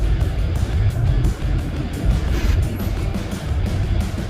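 Continuous engine and road rumble from a Lincoln Navigator (2003–2014 generation, fresh brake pads) on a short test drive around the block, a steady low drone with mild swells and no talk.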